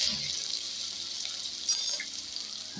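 Ginger-chili paste dropped into hot oil with dry spices, a steady, close, hissing sizzle that holds evenly throughout.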